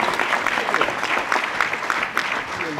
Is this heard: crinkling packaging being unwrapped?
no